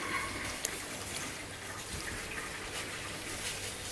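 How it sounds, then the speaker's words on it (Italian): Oil is poured into a jar of chilli peppers for a Sicilian preserve, giving a steady close liquid hiss and trickle that runs unbroken throughout. "Andiamo a mettere un altro po' di olio"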